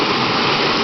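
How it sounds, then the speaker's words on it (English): Small waterfall spilling over a little dam at a fishing spot, a steady broadband rush of falling water heard close and loud with no talking. "we have this little waterfall here"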